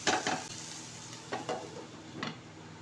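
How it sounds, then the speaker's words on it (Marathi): Okra sautéing in a covered pan produces a quiet, steady sizzle broken by a few soft stirring scrapes, fairly faint and with no voices. "झाकण ठेवून आपण याला 2 मिनिटं परतून घेणार आहोत।"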